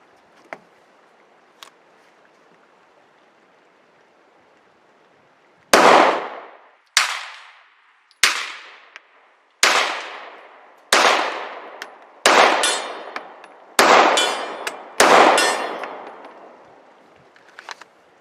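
Seven distant pistol shots from a subcompact handgun ring out at an outdoor range, each answered by a sharp metallic clang as the bullet strikes a steel popper target about 65 yards away, spaced roughly a second apart.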